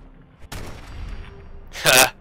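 Gunfire from Fallout 4 Nuka-World, with a sharp shot followed by a sustained rumbling burst and then a second loud, bright blast near the end, all close and prominent with no talking.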